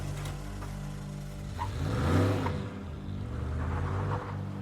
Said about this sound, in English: I waited until I heard the truck pull away